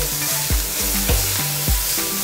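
Kale and garlic sautéing in a pan, a loud continuous sizzle broken by rhythmic stirring scrapes at regular intervals, with no voices.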